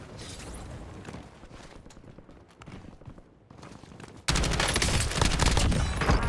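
Gunfire from a Glock fitted with a switch and a Draco rifle in a video game, first as scattered, muffled shots and then a sudden loud, sustained full-auto burst that fills the last couple of seconds.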